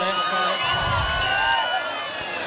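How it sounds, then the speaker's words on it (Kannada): A crowd at a live music comedy show claps and cheers for a performer, a broad swell of applause and shouts under an announcer's voice, fairly loud and close. "ಅವ್ರಿಗೆ ಜೋರ ಚಪ್ಪಾಳೆ"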